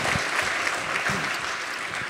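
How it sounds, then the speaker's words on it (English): An audience at an industry conference applauds, a steady, moderately loud spread of clapping from many people. "Round of applause, thank you."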